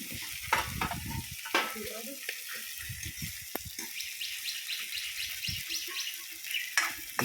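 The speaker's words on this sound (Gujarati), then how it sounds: "સાથે સાથે મરચું શેકાઈ રહ્યું છે" Green chilies roast in a pan for a chutney, giving a continuous crackling sizzle broken by frequent popping spatters and scraping stirs, close and moderately loud with no talking.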